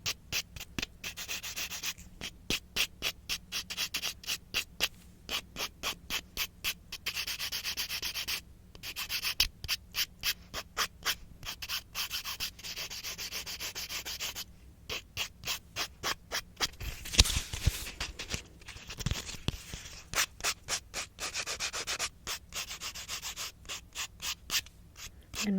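A nail file rasps rapidly back and forth across fingernails in close, steady strokes, shaping the nails with short pauses throughout.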